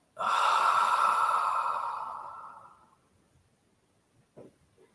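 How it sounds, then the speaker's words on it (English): A single long, audible exhale during a guided meditation, a breathy rush that fades over about three seconds, followed by quiet and a couple of soft faint sounds. "And breathing out."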